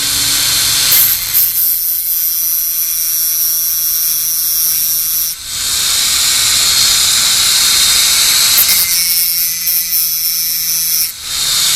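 A Dremel rotary tool's cutting wheel grinds against a chainsaw chain during a sharpening job, a loud high-pitched whine in long bursts broken by two short pauses where the wheel lifts off.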